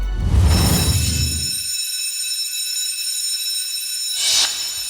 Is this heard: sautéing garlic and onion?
no